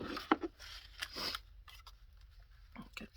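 Scissors snip paper for a craft journal page in a few short, quiet cuts, close by, with soft rustling between them.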